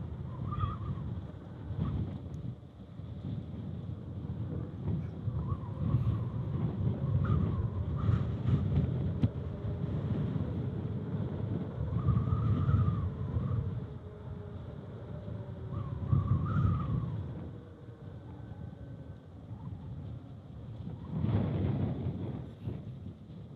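Wind buffeting a microphone while riding a Freego X3 electric scooter, a continuous low rumbling roar that swells and eases in gusts throughout, loud and close.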